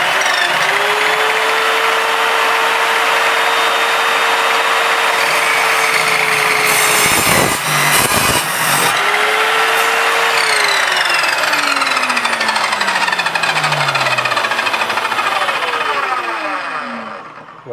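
An Evolution R210SMS miter saw whines up to speed, bites through wood with embedded screws in a loud, harsh grinding cut, then winds down with a falling pitch and spins up briefly again.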